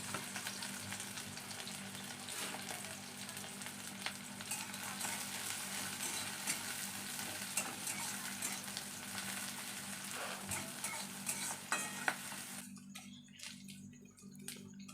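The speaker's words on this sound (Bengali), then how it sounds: "কড়াইতে তেল দিয়ে দিয়েছি, দিয়ে দিচ্ছি পেঁয়াজ কুচি আর 3টে লঙ্কা দিয়ে দিলাম" Chopped onions and three green chilies fry in hot oil in a wok, a steady, close, continuous sizzle and crackle with no talking, easing off at the very end.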